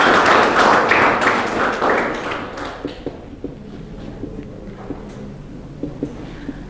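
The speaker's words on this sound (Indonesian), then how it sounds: "tepuk tangan dulu buat teman kita" High school classmates in a class at SMAN 2 Abiansemal burst into brief, energetic hand clapping that dies away after a couple of seconds, leaving a few scattered taps in a quiet room.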